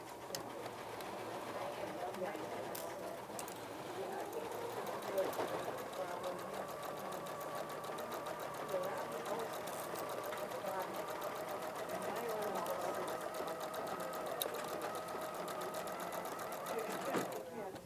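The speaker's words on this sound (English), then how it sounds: "right now I'm sewing on the bodice" Sewing machine stitching knit fabric for a child's dress bodice, a steady continuous mechanical whir held throughout under faint background noise.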